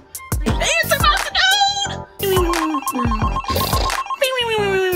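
Kids chatter and shout while a steady telephone ring tone keeps repeating underneath, never picked up.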